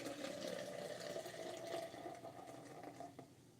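Freshly brewed coffee poured steadily into a cup, a close, continuous liquid stream lasting a few seconds with no talking over it.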